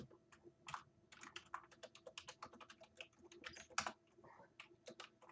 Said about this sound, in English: now if I type hi in chat